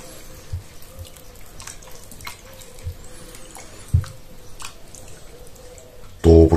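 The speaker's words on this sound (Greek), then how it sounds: "με καθαρά χέρια θα διαλύσουμε το προζύμι μέσα στο νερό" Hands squish and swirl sourdough starter in water with olive oil, soft wet sloshes and drips spaced irregularly at close range, ending in a louder burst of handling.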